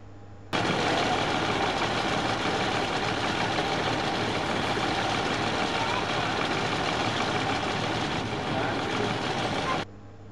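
A bus engine runs steadily on a road heading toward the Guatemalan border in Belize, a loud, dense rumble that holds for about nine seconds before cutting off abruptly.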